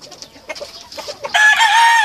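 A gamecock rooster, a giro, gives a few soft clucks, then breaks into a loud, close crow that carries to the end.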